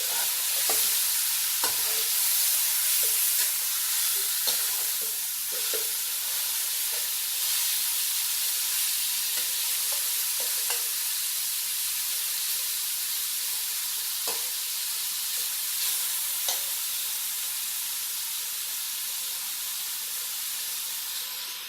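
Camel meat stir-fried in a karahi gives a long, even sizzle and hiss with scattered spoon scrapes and taps, moderately close and steady throughout.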